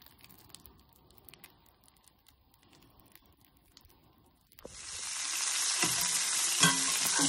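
Baby spinach hits a hot pan of bacon fat with a sudden, loud, continuous sizzle after several seconds of near quiet with faint clicks, followed by a few light stirring scrapes.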